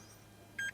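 A Dacia Spring electric car gives a single short electronic beep near the end, clean and moderately loud over an otherwise quiet, faintly humming cabin.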